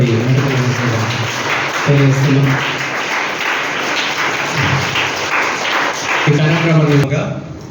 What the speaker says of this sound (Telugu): రామ్మోహన్ గారికి కూడా అందరూ ఒకసారి గట్టిగా చప్పట్లతో